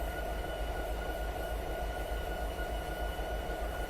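A train runs steadily in Dovetail Train Simulator, a constant low rumble of wheels and motor with a faint sustained whine riding above it, even and unbroken throughout.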